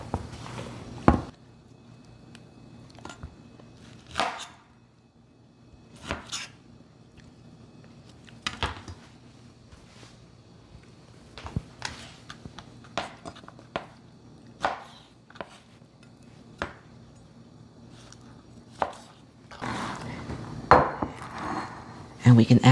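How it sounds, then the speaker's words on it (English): Knife slicing fresh peaches on a cutting board, a series of sharp, separate chops and taps at an irregular pace with quiet gaps between them, close and fairly loud. "we're going to set this aside and slice up our peaches"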